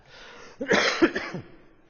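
A few short, close coughs from a pastor during a church service, followed by a rough clearing of the throat, heard alone with no talk.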